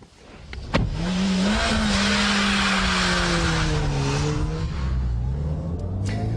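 A Ford Puma small family coupe drives hard with its engine note rising and falling and tires skidding, loud and close throughout, with no talk.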